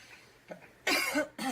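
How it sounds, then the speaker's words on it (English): A few coughs from one person close by with a cold: a soft one, then two loud, harsh bursts in quick succession. "Sorry, I have a little cold, guys, so I might be coughing."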